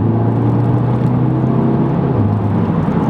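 A 2015 MK3 Audi TTS engine revs briefly with a throttle blip on a downshift. The engine note is loud, close and continuous, with a slight pitch dip and rise and no talk.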